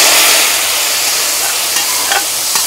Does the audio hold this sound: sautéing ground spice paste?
yes